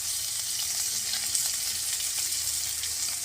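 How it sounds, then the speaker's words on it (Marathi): Bitter gourds roast and sizzle in a pan over a wood-fired stove, a steady close frying hiss running unbroken with no talk. "बघा आपली कारली कशी भाजत आली"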